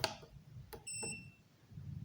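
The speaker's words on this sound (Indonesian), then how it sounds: "Kemudian buzzer bisa dihidupkan dan dimatikan." A 48V 5000W inverter's buzzer sounds a couple of short beeps in a quiet room, with a thin ringing tone trailing after, fairly faint and with no talking.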